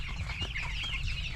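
Fifteen-day-old broiler chicks cluck and cheep together at a farm, a soft continuous chatter of many birds over a low background hum.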